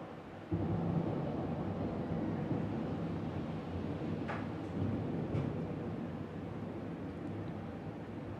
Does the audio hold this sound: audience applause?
no